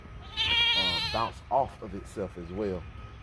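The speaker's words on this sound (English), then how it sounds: "you hear the goats" Goats on a small food-forest farm bleat repeatedly in drawn-out, wavering cries, close and fairly loud, overlapping one another.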